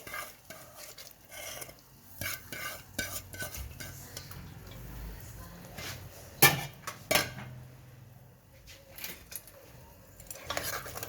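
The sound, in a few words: dal being added and stirred in a pot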